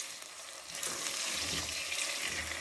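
Boneless chicken masala frying with onions in oil in a karahi, a dense steady sizzle that swells louder partway through as the pan is stirred, close and continuous with no voices.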